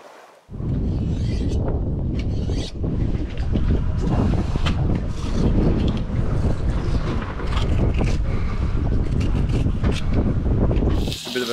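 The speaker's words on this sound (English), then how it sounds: "This squall front just came straight in and we're pretty much in the thick of it." Squall front sweeping over a lone sailboat at sea: a loud, steady roar of wind buffeting the microphone and rain lashing the boat, sustained and dense from start to end with no talking.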